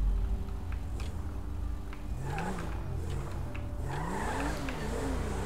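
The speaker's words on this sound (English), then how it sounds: "S500 AMG var artık şu an altımızda." Mercedes S500 AMG driving in Grand Theft Auto 5, with a steady engine drone and rising, falling tire squeals and skids that build toward the end, all loud and continuous over game background sound.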